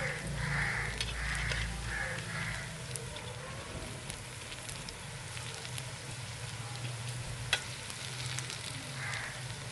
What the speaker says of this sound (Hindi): पकोड़े जो है वो कितने प्यारे पक रहे हैं।